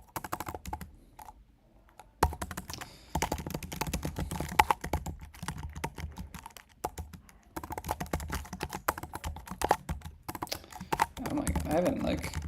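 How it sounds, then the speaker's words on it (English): Rapid, uneven tapping of code being typed on a laptop keyboard, with bursts of clacking keys broken by short pauses, close and fairly loud throughout. "I haven't like done coding on just this laptop keyboard in like quite a while."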